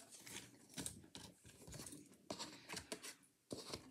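Scissors cut paper for a letter to Father Christmas, giving faint, close, irregular snips and crinkling rustles alone, with no talking.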